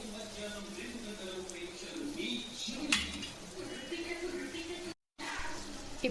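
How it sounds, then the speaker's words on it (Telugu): A spoon mixing chili powder and salt into food in a home kitchen, with soft scraping and occasional light metallic clinks against the dish, fairly quiet, with a sharper clatter partway through. "వేసుకొని కలుపుకుంటున్నా"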